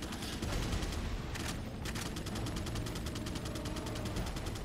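Rifle gunfire in Resident Evil 4: a steady run of quick, evenly spaced shots over constant background noise, with a brief pause partway through before the firing resumes. Faint and somewhat distant, with no talking.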